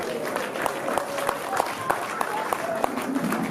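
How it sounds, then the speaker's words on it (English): An audience at a summit applauds after a keynote speech, dense steady clapping filling the room with sharper individual claps standing out, while a voice talks over it. "Let's keep on clapping for him"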